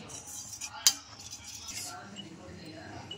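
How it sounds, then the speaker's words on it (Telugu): A metal spoon stirs cocoa powder and sugar into hot milk in a pot, scraping and clinking softly with one sharp clink near the start, while a person talks quietly over the stirring. "సో అందుకే ఇట్లా మిక్స్ చేస్తూ ఉండాలి"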